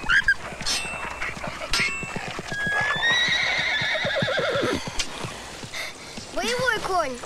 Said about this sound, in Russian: боевой конь